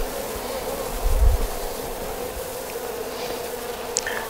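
Honey bees buzz in a steady, dense drone from an open eight-frame bee hive, close and continuous, with a brief low thump partway through.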